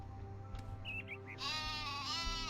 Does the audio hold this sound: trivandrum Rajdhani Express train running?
no